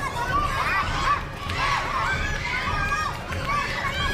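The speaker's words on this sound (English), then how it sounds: "The fans are cheering him on." A boxing arena crowd cheers and shouts in a dense, continuous roar that swells in waves, with voices calling out over the steady din.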